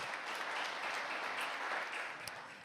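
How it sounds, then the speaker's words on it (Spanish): A church congregation applauds steadily, a dense wash of clapping that stays even throughout and fades only slightly at the end. "un aplauso al Señor."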